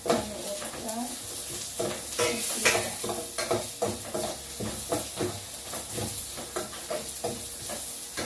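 Ginger sautéed in a pot for Filipino chicken tinola gives a strong sizzle with rhythmic stirring scrapes and clatter throughout, close and busy.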